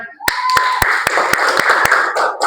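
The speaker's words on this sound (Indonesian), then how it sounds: "Tepuk tangan." A small group claps in a high school chemistry classroom, sharp distinct hand claps ringing out in an uneven rhythm over a background murmur of voices.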